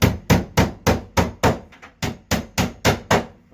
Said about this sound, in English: You may have to bang that in with a little hammer,